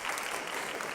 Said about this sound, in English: Please give yourself a big applause